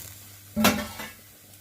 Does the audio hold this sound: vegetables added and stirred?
yes